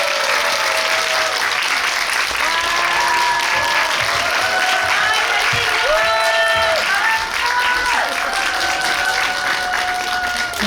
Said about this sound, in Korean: 잘생겼다는 환호가 나오고 있는데